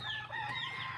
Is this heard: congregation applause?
no